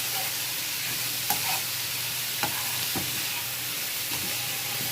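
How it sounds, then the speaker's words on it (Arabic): Mushrooms sauté in a pan with a continuous close sizzle, broken by a few sharp clacks and scrapes as they are stirred. "ودي بس المشروم تشويحه كده كويسه"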